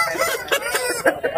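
Roosters at a village market in Kunnathur, giving repeated short clucks and calls against a busy crowd hum, several bursts in quick succession.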